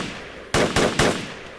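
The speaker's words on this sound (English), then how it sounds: "Need some suppressive fire on that guy." Suppressive gunfire in the military shooter game Project Reality sounds as three loud, sharp shots in quick succession, each with a short ringing tail, with no voices.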